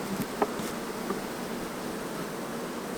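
Honey bees buzz around an open hive, a continuous close droning hum with a few louder passes of individual bees near the start.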